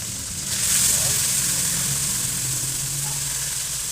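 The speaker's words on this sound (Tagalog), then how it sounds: "Ito na, unang prito natin." Tilapia frying in a hot pan, a steady bright sizzle that swells after the fish goes in and holds loud and continuous, with a low rumbling hum underneath.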